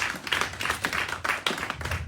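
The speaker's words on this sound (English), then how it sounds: "Let's give her a round of applause, please." Audience clapping for a pastor's welcome speech at a church gathering: a short burst of claps in an uneven rhythm from a fairly small crowd, close and moderately loud, with no talking.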